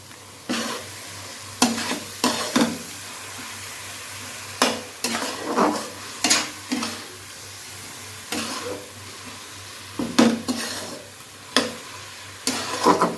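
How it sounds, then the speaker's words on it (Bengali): Ginger and garlic fry in a pan as tomato goes in, cooking Bengali mocha chingri ghonto; a steady sizzle runs under repeated scraping spatula strokes, with no talking. "আদা রসুনটা যতক্ষণ ভাজা ভাজা হচ্ছে এটা আমি একটা টমেটো দিয়ে দিই।"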